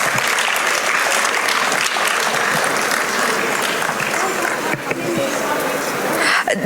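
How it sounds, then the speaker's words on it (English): Loud, dense applause fills a college valedictory ceremony as poetry recitation winners are honored, continuous clapping with a few sharper claps standing out near the end. "Let us give our winners a big round of applause."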